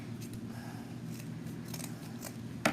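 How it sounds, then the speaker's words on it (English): Scissors snip ribbon ends for a fall wreath, a few soft, close cuts scattered over a low hum, ending in a sharper crisp snip. "I just like to go ahead and trim it off at the edge. And then I can trim inside."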